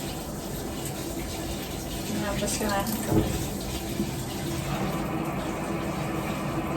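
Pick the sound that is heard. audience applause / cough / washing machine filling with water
washing machine filling with water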